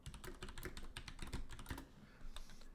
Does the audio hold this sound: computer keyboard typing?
yes